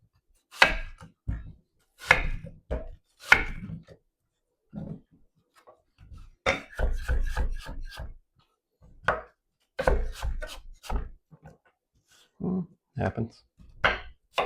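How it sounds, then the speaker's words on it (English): A knife slices an apple into pieces on a cutting board while apple cinnamon crepes are being made: close, crisp chopping strokes come in irregular bursts, some single and some in quick runs of several cuts, separated by short pauses. "we're gonna cut the apple into slices"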